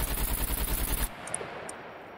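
Rapid automatic gunfire rattles in a video game for about a second, then cuts off abruptly, leaving a quieter background with a couple of faint high clicks.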